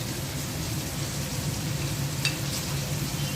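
Chili pickle vegetables made with home-grown chilies are mixed in a hot pan with turmeric, salt, five-spice and ginger-garlic paste, producing an even, close sizzle with a single sharp utensil clink.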